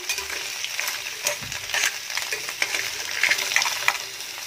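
Crabs being sautéed in a pan, a constant sizzle under repeated clatter of shells and spatula knocking against the metal, with irregular bumps and scrapes throughout and no voices.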